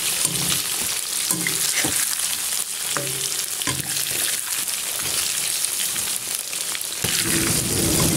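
Chicken curry meat frying in a pan with turmeric gives a steady, close, dense sizzle, with occasional stirring scrapes breaking through the crackle throughout.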